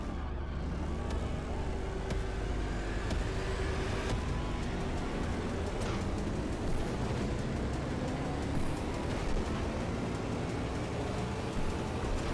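Racing cars roar through the Spin Cycle race in the video game Grip, a dense, continuous engine drone with rising whine that stays loud and steady throughout, with no talk.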